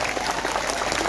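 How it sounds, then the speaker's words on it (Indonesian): A crowd at a religious talk gives a brief, loud burst of applause, dense clapping filling the moment without any speech. "Tepuk tangan untuk Indonesia."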